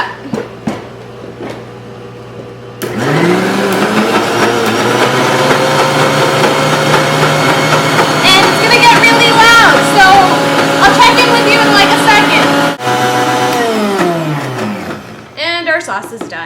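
A blender whizzes Dan Dan noodle sauce made with garlic and ginger, a loud, steady motor roar that starts abruptly after a moment of quiet, holds for about ten seconds with a brief dip, then stops.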